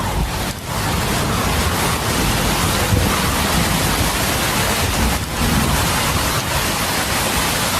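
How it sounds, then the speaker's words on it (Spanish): Torrential rain pours onto isolated mountain tops above a rainforest as moist jungle air is forced up the cliffs, a dense, steady roar of heavy downpour that stays loud and unbroken throughout with no voices. "La humedad de la selva debajo es forzada a subir por los acantilados, liberando torrentes de lluvia."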